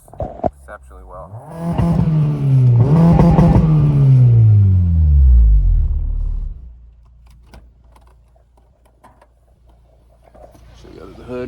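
A 2008 Honda Civic Si with a swapped K24a2 engine revs up and then eases off during a Sunday afternoon cruise, a strong engine note swelling and then falling away before quieter road noise.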